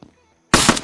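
An automated turret in an open world survival game opens fire with a sudden loud, dense burst of rapid shots about halfway through, after near silence with a faint blip at the start.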